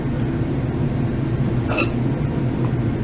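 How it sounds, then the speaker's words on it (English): A single sharp hiccup, short and close, rising briefly above a steady background hum while doing dishes; no talking. "Oh, now I got the hiccups."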